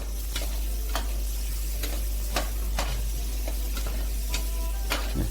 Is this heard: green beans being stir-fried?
yes